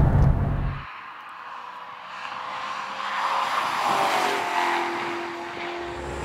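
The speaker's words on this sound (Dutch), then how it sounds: "En dan klinkt meteen de motor een stuk stiller." A Maserati sports car engine hums along at moderate volume after an opening burst of low rumble, with a rising whine and tire noise as it drives.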